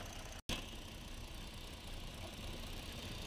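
A 2014 Ford Taurus engine runs at a steady idle after starting, giving a low, even hum with a brief dropout near the start and no voices over it.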